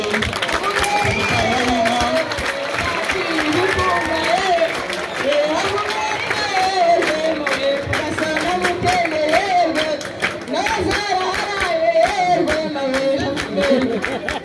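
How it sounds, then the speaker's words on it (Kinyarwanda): Applause from an audience at a primary school event, sustained clapping and crowd noise with some cheering, loud and continuous, mixed under a speaker talking over a microphone. "amashyi menshi cyane"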